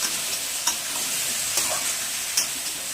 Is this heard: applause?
no